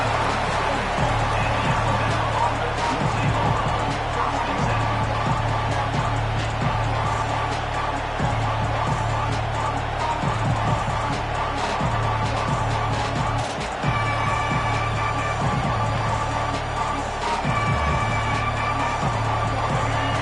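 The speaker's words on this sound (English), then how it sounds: "It's early, but this crowd is fired up. Listen to this noise here." A large stadium crowd at a football game roars continuously, a dense wall of cheering and shouting with rhythmic pulses underneath, loud and sustained throughout.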